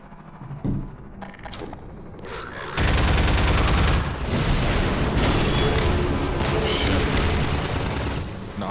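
Gunfire and a grenade blast in Half-Life 2: quieter scattered shots and thuds give way to a sudden loud explosion, followed by a sustained roar of rapid gunfire and rumbling debris, with faint voices underneath.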